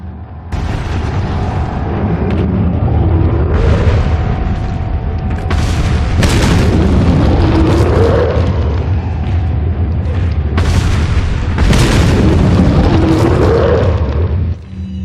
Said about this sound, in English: I'm going to hurry things along a bit with a hand grenade